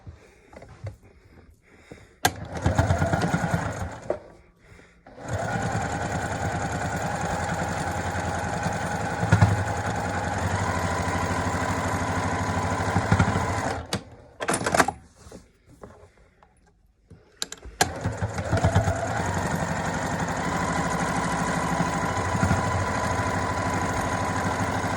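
Sewing machine top stitching a fabric face mask, running in steady sustained bursts of even motor hum with brief pauses between seams, close and fairly loud with no talking.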